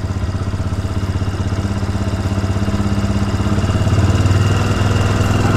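Motorcycle engine idling close by while its air-fuel mixture screw is adjusted, a loud, steady rhythmic mid-pitched putter that rises slightly in speed toward the end, with no talk.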